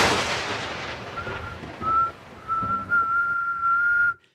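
Someone whistling into a microphone: a thin, high, piercing tone that comes in short broken bursts and then holds steady for over a second before cutting off abruptly, sitting over a dull background din.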